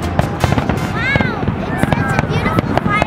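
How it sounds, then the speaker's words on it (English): Fourth of July fireworks in Michigan popping and crackling in quick repeated bursts, with whistling rockets rising through the middle, while people nearby talk and exclaim. "Wow, it's such a beautiful firework."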